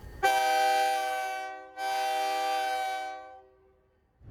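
A passenger train from Utica arriving at Tupper Lake blasts its horn twice, a long chord and then a second long chord after a brief gap. Both blasts are loud and clear, fading at the end with no talk.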